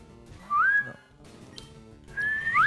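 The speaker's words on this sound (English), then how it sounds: "I can whistle so loud." Loud human whistling, two short rising and falling whistled phrases separated by a pause, close and clear with no talking.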